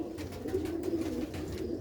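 Large show pigeons kept for standing display give faint, low, continuous cooing with a steady murmuring rhythm.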